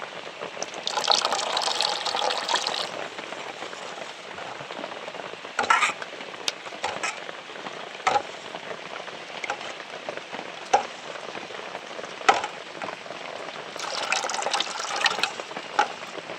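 Water is poured into thick cooked mango pulp and stirred, giving a splashing, liquid rush in bursts at the start and end, with intermittent spoon scrapes and taps in between, close up and without talk.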